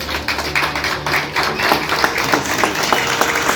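Wedding guests applaud the newlyweds right after they are declared husband and wife at a church nuptial ceremony, a loud, continuous patter of hand clapping over a low background tone.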